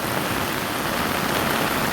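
Heavy rain pours down in strong wind during a storm over a village, a loud, unbroken wash of hiss with no pauses and no voices.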